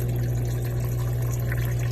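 A KAPAS dishwasher drains its water with a steady, continuous pump hum and a soft watery rush, close and unchanging, with no voices.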